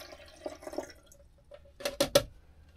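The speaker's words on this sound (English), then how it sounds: "pouring without spilling" Water being poured into a container for making coffee, heard up close as a few soft splashes and trickles, then a brief run of louder sloshing drips near the end.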